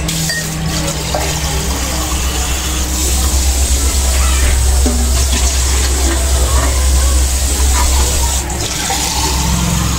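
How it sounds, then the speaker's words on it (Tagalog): Water is poured into a cooking pot for shrimp sinigang, a steady loud rushing pour that runs the whole time under a low background rumble. "maglalagay tayo ng tubig dito. Mga 3 baso lang siguro"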